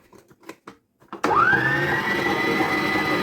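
A few clicks and bumps come as the kneading hook is fitted, then an electric stand mixer starts mixing flour and rises into a loud, steady motor whine that holds without a break, close by and with no talking.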